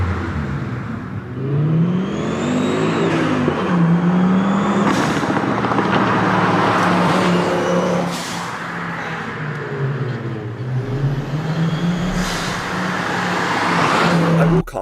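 A car engine in a video game revs and shifts repeatedly with rising and falling tones, loud and close, punctuated by sharp hissing blow-off valve bursts; a voice talks intermittently underneath.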